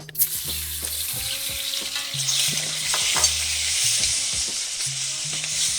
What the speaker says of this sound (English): add the shrimp in. Yeah, add the shrimp.